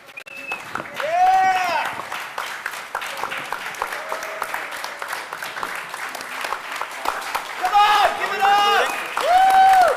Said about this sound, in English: we don't really need to clap.